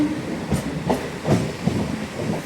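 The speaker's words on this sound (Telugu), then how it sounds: "సో కాల్దారి స్టేషన్ నుండి అయితే మన ట్రైన్ అయితే బయలుదేరిపోయింది" A MEMU passenger train rolling on rails after leaving Kaldari station, a steady rumbling ride with periodic clickety-clack wheel beats over rail joints, heard from inside the carriage with no voices.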